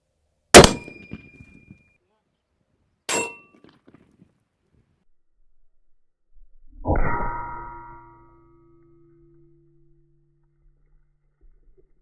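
Bullets strike a steel Bush Hog mower blade outdoors: two sharp metallic cracks a few seconds apart, then a louder clang that rings on with a sustained metallic hum before fading to quiet.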